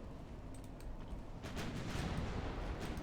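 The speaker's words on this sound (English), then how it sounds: "And that means... torpedo hits." In the naval warfare game Ultimate Admiral Dreadnoughts, torpedoes strike a ship with muffled, rumbling booms that build into a sustained low roar of explosions and distant gunfire.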